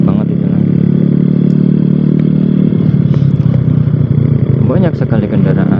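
Steady, loud engine drone and road roar heard from a moving motorcycle on a busy road with many trucks, cars and motorbikes, with a person talking over it.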